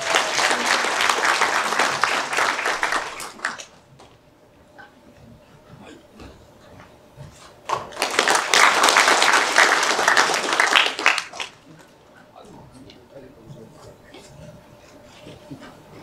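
Large-audience applause welcoming the Gangwon provincial bodybuilding association president at the Mr. Gangwon contest: two loud bursts of clapping separated by a quieter stretch with scattered voices and faint claps.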